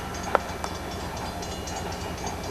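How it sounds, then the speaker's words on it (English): A passenger train on a soon-to-be-abandoned line to Shedden, Ontario, rumbling steadily along the track at moderate distance, with a sharp clank near the start. "passenger train to Shedden"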